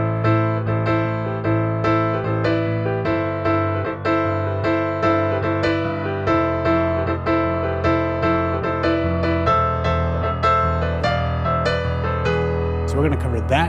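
Piano playing the main riff of a song, steady repeated chords and a driving bass line at a brisk pulse, loud and clear, no voices.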